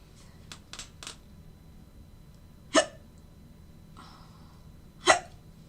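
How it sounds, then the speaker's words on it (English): A person sitting at a desk hiccups twice, loud and close, several seconds apart, with a few faint clicks and light movement noises in between. "freaking hiccups."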